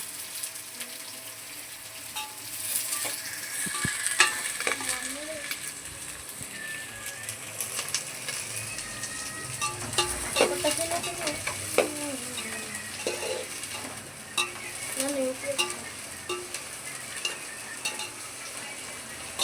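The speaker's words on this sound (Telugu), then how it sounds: "పావులు నూనె పోసుకొని ఉల్లిగడ్డలు వేసుకోవాలి" Onions fry in oil over a low flame, giving a soft continuous sizzle broken by scraping, clattering stirring strokes, with faint bird calls in the background.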